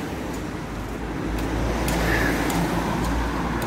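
Steady city street traffic in Figeac, France, a continuous roadway rumble with cars passing at moderate distance and faint higher noises of the town on top, no talking.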